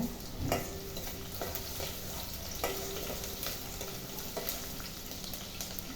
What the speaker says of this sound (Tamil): வெங்காயம் வெந்த பிறகு தாங்க மசாலா ஊற்றணும் வெங்காயம் வேகலை